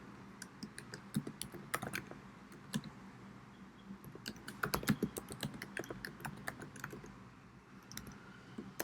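Computer keyboard typed on while writing code, a quick irregular patter of clicky keystrokes in bursts with brief pauses, close and fairly quiet over a faint hum, no speech.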